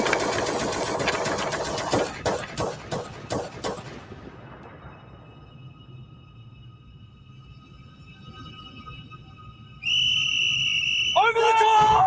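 A whistle blown to signal a full charge in a sci-fi war fan film shrills out after a run of rhythmic mechanical bursts, rising suddenly and loudly near the end over a low hum.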